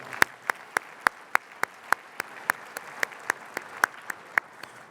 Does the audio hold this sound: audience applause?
yes